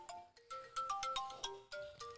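A phone ringtone plays during a podcast about fishing: a bright, repeating electronic melody of short tonal notes in a steady rhythm, fairly close and clear, with no talk over it.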